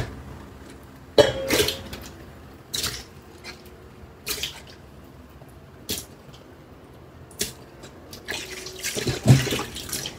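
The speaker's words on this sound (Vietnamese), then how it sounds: "Bây giờ mình sẽ đem đi rửa sạch." Water from a tap running intermittently while Chinese Tien Vua vegetables are rinsed in a sink, with short splashing bursts, trickles and drips at close range, plus an occasional cough or throat clear.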